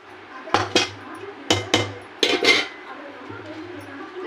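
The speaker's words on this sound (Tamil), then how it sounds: "நல்லா மத்து போட்டு கரைஞ்சிடலாம்." A wooden mathu churner mashes cooked ration dal and arai keerai greens in a pot, making sharp clacking knocks against the vessel in quick pairs and a cluster, close and fairly loud, with a faint low hum underneath.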